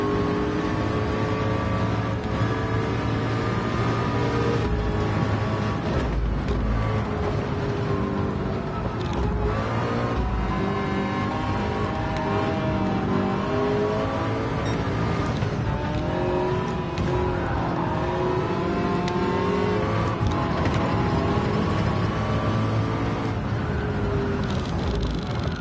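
A McLaren race car engine in 24 Hours at Le Mans roars continuously near and loud, its pitch rising and falling through gear changes as other cars run close by.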